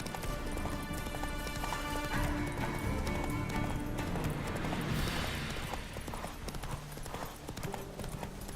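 Roach, a horse in The Witcher 3, gallops with rapid rhythmic hoofbeats over a busy game soundscape, a brief whinny mixed in and a voice talking faintly in the background.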